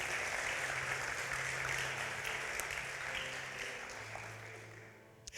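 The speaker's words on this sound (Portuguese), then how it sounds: "Pode aplaudir a Jesus." A congregation applauds during a church sermon: steady, dense clapping from a crowd that slowly thins and fades out, heard at a moderate distance.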